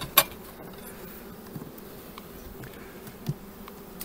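Honey bees and male drones buzz inside a hive during a queen check, a steady low insect drone with a few louder close passes near the start and end.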